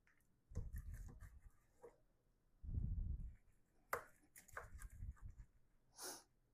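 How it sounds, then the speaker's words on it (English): A knife cuts through tender cooked ribs, giving several close, quiet chopping thuds and scraping strokes in short bursts, alone without talk. "We're going to take our knife And we're gonna cut right through these"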